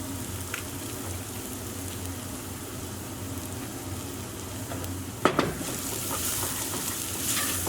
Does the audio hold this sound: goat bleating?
no